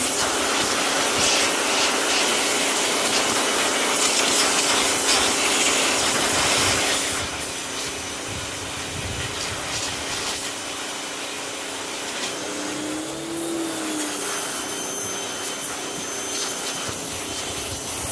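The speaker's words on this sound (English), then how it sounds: "So I'm going to take out my pressure washer, see if I can pressure wash this." A pressure washer spraying a loose chrome motorcycle luggage rack gives a steady, loud broadband hiss and roar that runs throughout, dropping slightly in level partway through as the spray shifts, with no talking.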